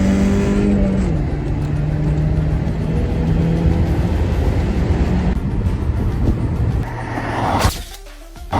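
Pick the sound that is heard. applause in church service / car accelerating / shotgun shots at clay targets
car accelerating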